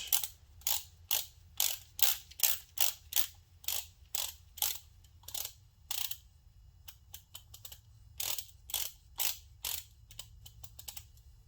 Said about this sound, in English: So I will go get a little torque wrench, put it at 23 Newton meters.